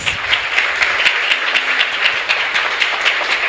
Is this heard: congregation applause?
yes